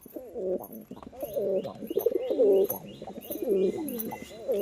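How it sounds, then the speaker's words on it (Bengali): Pigeons coo repeatedly in a loft, several overlapping throaty calls in a steady rhythm, close and fairly loud, with a few faint chirps and no talking. "এই হচ্ছে কবুতর"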